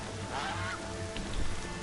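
A goose honks in the Horizon Zero Dawn game world, a few nasal calls rising over a constant hissing ambient wash, with the game's background sound filling the gaps and no speech.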